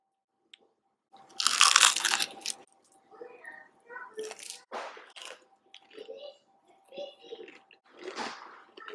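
Crispy oven-baked KFC-style chicken tenders bitten with one loud, close crunch, followed by quieter crackling chews in short bursts and gaps.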